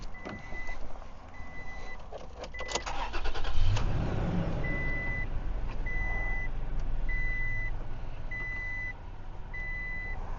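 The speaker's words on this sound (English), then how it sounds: "We're going to go ahead and start the engine" Car engine cranking with a quick rattling series of starter clicks, then catching into a steady idle, while a tester beeps at regular intervals in the background.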